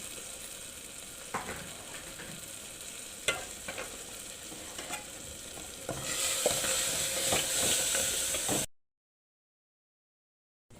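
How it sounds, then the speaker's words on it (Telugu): Fenugreek rice mixture is stirred in a frying pan, giving a soft, continuous sizzle broken by clicks and scrapes of a spoon against the pan; the sizzle swells louder near the end, then cuts to silence. "ఇప్పుడు ఇవన్నీ ఒకసారి మిక్స్ చేసుకోవాలి."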